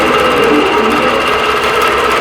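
Sewing machine stitching across a quilt, a loud, fast, even whirring chatter at close range with no pause.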